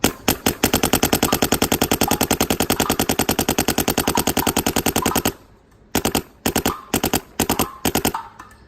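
A 170R paintball marker firing in a fast, steady stream of soft popping shots for about five seconds, then after a short pause several quick bursts of rapid shots, close and loud with no voices over them.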